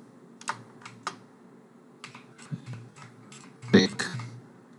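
Search terms being typed on a computer keyboard in Windows 11 File Explorer, with close, crisp key taps in irregular bursts and a louder cluster near the end.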